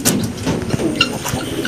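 Pigeons coo softly nearby in a short series of low, throaty calls, with a few faint chirps and light background noise.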